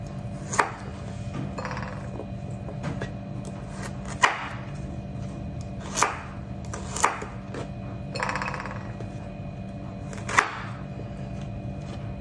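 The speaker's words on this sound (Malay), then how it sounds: "Sebelum tu saya akan potong secara kasar ya" A knife coarsely chopping galangal and ginger on a board, about eight sharp, spaced thuds over a low steady background hum, close and fairly quiet with no talk.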